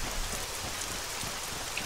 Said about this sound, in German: Es fängt an zu regnen.